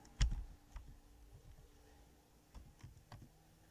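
Typing "touchpad" into the Windows search box on a computer keyboard: a few quiet, scattered key clicks with a louder tap near the start, close and faint against a low room hum.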